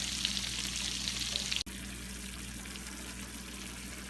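Chili simmering in a pan for biker-style chili dogs gives a steady, close bubbling sizzle with a brief dropout partway through, and no voices.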